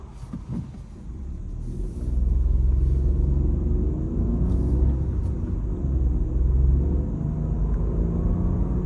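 A Škoda Fabia 1.0 TSI 81 kW car in sport mode gives a low, steady engine rumble from inside the cabin that rises in loudness after a quieter start and holds at a constant drone.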